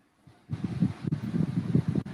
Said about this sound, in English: I hear like a wind gust.